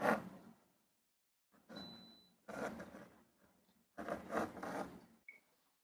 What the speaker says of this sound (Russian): Делаю набросок следующей своей картины.